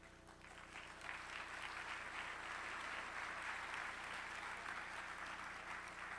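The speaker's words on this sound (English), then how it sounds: "thank you for the applause" Dense, continuous applause from an audience at a historian's lecture, a quiet, distant wash of many hands that holds steady throughout.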